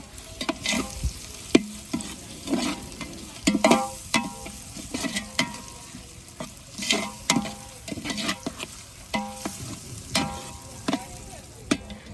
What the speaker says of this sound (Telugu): అల్లం పేస్ట్ వేస్తున్నా నేను ఇందులో